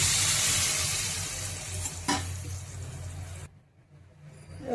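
Tamarind juice poured into a hot pan holding eggs and dried fish, a strong hissing sizzle that fades with a short clatter midway, then cuts off to near quiet before a faint rise at the end.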